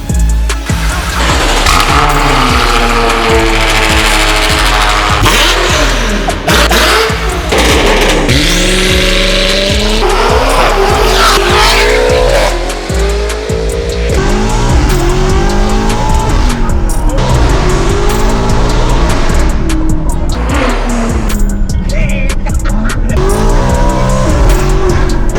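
A straight-piped BMW M4 F82 roars with a loud, raw exhaust, revving hard and accelerating up and down through the gears. Tires squeal and skid, and the sound stays close and continuous.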